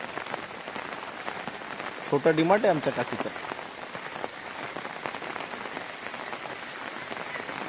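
Monsoon rain falls steadily at a village homestead, a constant patter on surfaces throughout, with a voice speaking briefly partway through.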